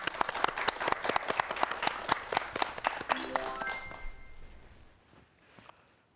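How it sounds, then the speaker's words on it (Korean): A studio audience at a broadcast science talk show claps steadily for several seconds, a dense crackle of hands that thins out and dies away toward the end. "여러분 박수로 청해보도록 하겠습니다."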